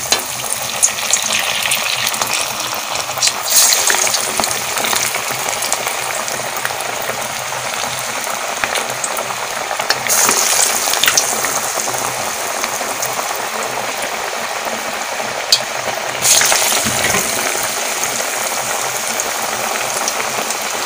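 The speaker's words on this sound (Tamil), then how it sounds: "நமக்கு எண்ணெய் காஞ்சிருச்சு. நம்ம வடையை வந்து உள்ளே சேர்த்துக்கலாம்." Lentil vadas deep frying in hot oil give a loud, continuous bubbling sizzle that stays even throughout, with a few brief clatters and no talk.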